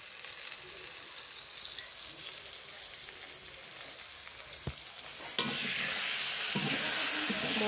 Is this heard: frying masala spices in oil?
yes